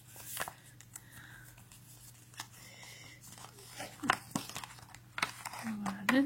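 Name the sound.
small paper envelope from McDonald's Molang booster being opened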